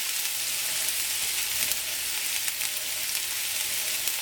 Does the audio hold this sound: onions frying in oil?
yes